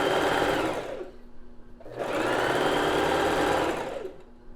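A sewing machine stitches lingerie fabric in two long, loud runs separated by a brief pause, with a steady whirring rattle and no speech.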